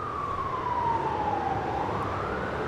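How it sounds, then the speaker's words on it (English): A siren tone, likely an ambulance or police siren added as an edit, wails steadily and loudly over dense street or traffic noise, sliding slowly down then rising again across the whole stretch. "Let's do like siren."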